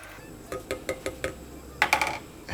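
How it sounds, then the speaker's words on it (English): A spoon stirs Nescafe 3-in-1 sweet and creamy coffee in a cup. Light metallic clinks come in a quick irregular series of about eight taps, near and fairly quiet, with no talk over them. "Let's give it a stir."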